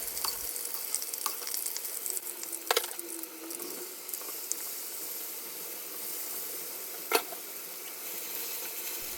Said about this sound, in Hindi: बाकी का चिकन डाल के इसी तरह फ्राई कर लेना है।